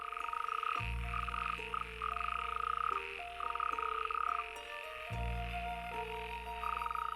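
A chorus of male frogs in a pond croaks loudly and continuously, overlapping calls pulsing in rough rhythm, close and dense with no voices.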